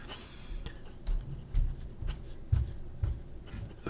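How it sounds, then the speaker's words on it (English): Fountain pen with a number 5 size nib writing in a paper agenda, quiet close scratching strokes in short bursts with soft taps between them, no talking. "This it wrote really nicely in my agenda because it's got a finer"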